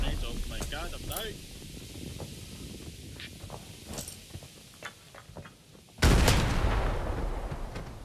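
Grenade blasts in the Arena Breakout shooter: after a stretch of muffled gunfire, footsteps and rustling, one heavy, loud explosion erupts near the end and rumbles on as it fades.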